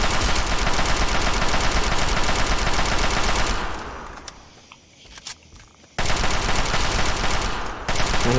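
Rapid automatic gunfire in Fallout 3, a continuous loud stream of shots that dips into a quieter stretch with a few isolated bangs before the heavy firing resumes at full intensity.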